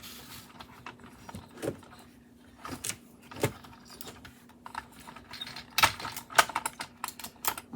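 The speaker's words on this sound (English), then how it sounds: "I'm just getting my tape." Sublimation tape pulled off the roll in bursts while a heat-press trucker hat is being prepared indoors, with sharp tearing rips and ticking over a faint steady hum and no talk.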